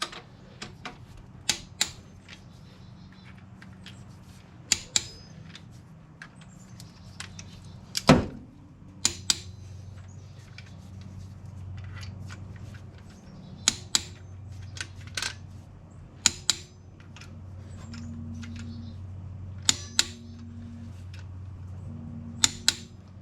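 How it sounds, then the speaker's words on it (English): Torque wrench clicking as cylinder head bolts on a twin-turbo Dakota R/T with a blown head gasket are loosened; a series of sharp, close metallic clicks, single and paired, spaced irregularly over a low garage hum. "I'm gonna just keep easing up on the torque wrench and see where they start to click at"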